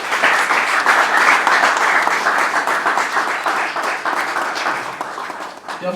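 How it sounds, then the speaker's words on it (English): A crowd at a formal event gives a sustained round of dense, loud clapping that fades slightly before a voice comes in at the end. "Can you give a round of applause?"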